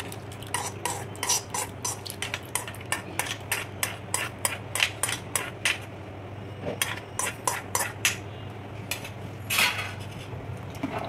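A metal spoon stirs ghee-fried cashews and almonds through thick rava kesari in a pan, producing rapid repeated clinks and scrapes against the vessel in an uneven rhythm, close and fairly loud, with no voices.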